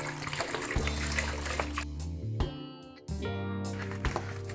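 Water is poured steadily onto a packet of dried senna leaves, a continuous splashing trickle that briefly stops and then resumes, close and moderately loud, with no voices.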